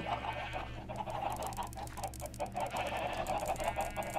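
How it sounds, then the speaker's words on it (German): Minecraft chickens clucking in a steady run of short, bright calls over a constant low game hum, with no talk. "So, jetzt aber die Hühner."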